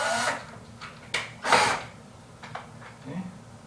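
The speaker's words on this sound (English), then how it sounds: "You gonna drill?" A power drill driving a Phillips screw into a remote control, giving a couple of short, close whirring bursts between pauses, with people talking around it.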